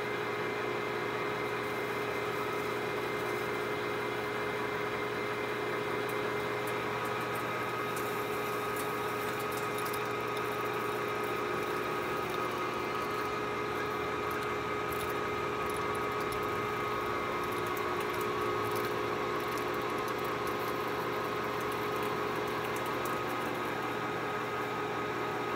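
A metal-cutting machine, likely a lathe, runs steadily at a slowed 300 RPM while cutting, chips coming off blue, producing a constant loud mechanical hum with a whine throughout.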